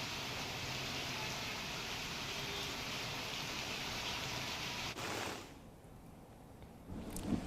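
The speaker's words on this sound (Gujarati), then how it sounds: "અમરેલીના બાબરા પંથકમાં અવિરત વરસાદ" Incessant heavy rain falls in Babra, Amreli district, Gujarat, as a dense steady wash of noise that cuts off abruptly near the end and gives way to a quieter background.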